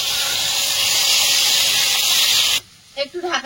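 Water poured into a hot pan of cauliflower, potato and spices sets off a loud, steady hiss of steam that cuts off abruptly after a couple of seconds, followed by a voice speaking.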